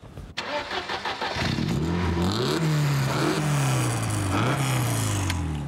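A car engine cranks and catches, then settles into a steady running idle with rising and falling revs, loud and close, no talking.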